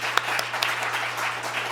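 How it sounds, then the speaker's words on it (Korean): Audience applause at a Korean tax research academic conference as a university professor is introduced to present, a steady wash of clapping from a seated crowd lasting under two seconds. "박수 한번 주세요"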